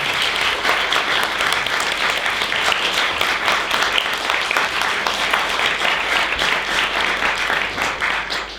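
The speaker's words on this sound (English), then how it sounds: "join me in the round of applause for our guests" An audience at a poetry and visual arts book launch breaks into steady, dense applause that holds at full strength throughout, with no voices over it.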